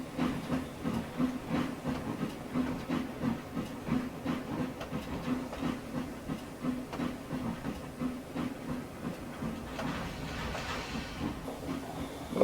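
An 1886 L1 2-8-0 steam locomotive, engine 404, hauls an extra freight train on C&KR track from Nelson toward Troop Junction in the Trainz simulator, a steady rhythmic chuffing and rumble with hiss running continuously throughout.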